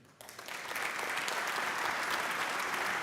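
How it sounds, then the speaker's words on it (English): Conference audience applauding at an Industry 4.0 summit, a sustained wash of many hands clapping that swells in after a brief quiet start and holds steady, loud and dense, with no talking over it. "Your applause again for Nick."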